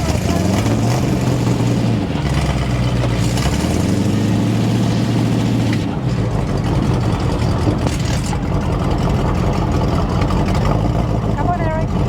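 The Space Junkie custom vehicle's engine rumbles loud and steady through a cruise, its pitch shifting slightly as it drives, with people talking over the engine noise.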